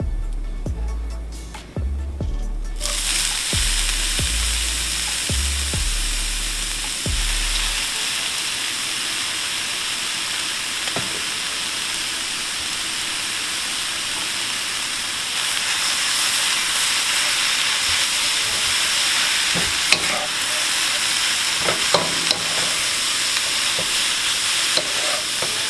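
Shredded radish for radish cake frying in a pan, with thumping drops as it goes in, then a loud, continuous hiss and sizzle with scattered clicks of stirring, no voices.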